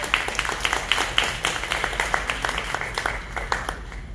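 Congregation applauding during a Spanish-language church service, a steady patter of many hands clapping at close to moderate distance, fairly even and unbroken.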